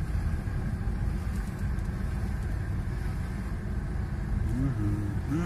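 A car drives steadily along, its low engine rumble and road noise constant and close, filling the whole interior without a break.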